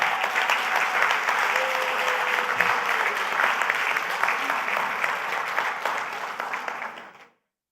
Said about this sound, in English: Grenada and the people of Grenada need to be given a round of applause